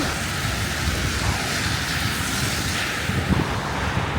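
Steady rain mixed with snow falling outdoors, a dense continuous hiss of drops with a soft low rumble underneath and a few heavier patters near the end.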